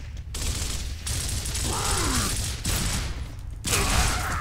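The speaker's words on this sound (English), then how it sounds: "Shots." Gunfire in the video game Gears of War, sounding as scattered, somewhat muffled shots among mechanical creaks and groans, with a steady rumble underneath and no speech.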